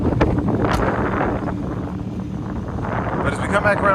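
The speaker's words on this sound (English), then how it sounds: "I apologize for the wind." Loud wind gusts buffeting a microphone outdoors beside a 610HP Audi R8 V10 Plus, a constant rumbling roar with someone talking over it.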